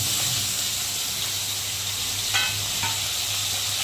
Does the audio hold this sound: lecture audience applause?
no